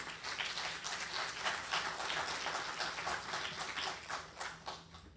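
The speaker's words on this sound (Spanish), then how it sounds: "recibamos con un fuerte aplauso" An audience at a conference on legislative measures against anemia in Peru applauds to welcome a speaker, a steady wash of many hands clapping at a moderate distance, sustained throughout without speech.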